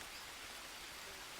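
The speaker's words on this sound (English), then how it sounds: "let it catch some rain." Rain falls in the Green Hell survival game as a steady, soft broadband hiss with no distinct drops, continuous and faint throughout.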